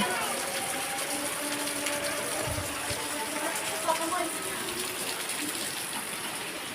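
Steady rain pours and splashes on surfaces, a constant hiss with water gushing, with voices faintly underneath.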